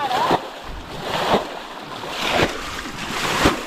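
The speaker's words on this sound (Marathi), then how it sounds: "हे बघ असं पाणी उपसायचं" Water splashes in repeated scoops about once a second as a stream pool is bailed out to catch fish, each slosh followed by a pause, over a steady outdoor wind-like rush.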